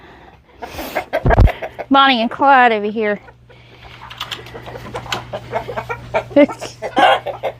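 Backyard chickens cluck and call inside a coop. A person talks nearby, and short clucks and squawks break through close to the listener.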